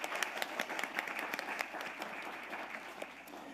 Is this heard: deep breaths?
no